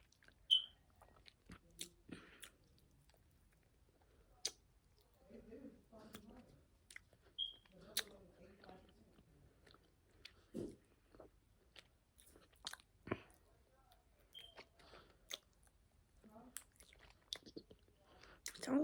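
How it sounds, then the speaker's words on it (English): Close, quiet chewing and biting of a crabby patty burger, with soft crunches and mouth sounds in scattered bursts, plus occasional faint whispered talk. "Sounds like I'm eating a real burger."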